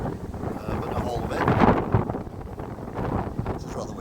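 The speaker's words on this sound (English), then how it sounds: "It's rather windy today, I know you noticed that." Gusty wind buffeting the microphone with a low rumbling roar that swells and fades, with some faint talking underneath.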